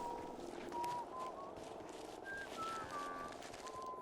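A character in Fallout 4 whistles a tune in short, clear melodic phrases over a steady background hum of game ambience.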